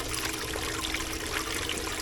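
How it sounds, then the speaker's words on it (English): A pump spins in a bucket of water, driving it through nozzles on two sides so it circulates in a dense, continuous close-up gurgle and splash. "The whole idea is you have a pump in the water and it's spinning. There are nozzles on 2 sides that is circulating the water."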